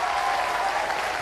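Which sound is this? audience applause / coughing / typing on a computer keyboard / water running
audience applause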